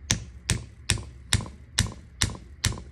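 Sharp, evenly spaced taps, seven of them, ring out close by as a gear is tapped into a filament respooler jig resting on a granite block, each knock decaying quickly.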